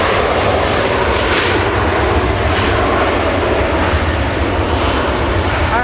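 A Hawaiian Airlines airliner takes off from Los Angeles International Airport, a loud, dense, continuous engine roar that stays steady throughout, with no voices.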